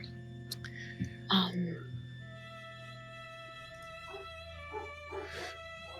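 A pet dog barking and yipping indoors, a few brief, fairly faint calls over a steady background hum, with a voice briefly audible nearby.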